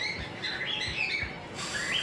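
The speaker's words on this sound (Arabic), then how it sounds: "امسك العصفور كده، ماشي؟" A small pet bird held in the hand gives a quick series of high, thin chirps, fairly close, over faint background noise with no speech.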